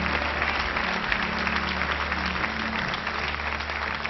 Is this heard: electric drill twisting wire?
no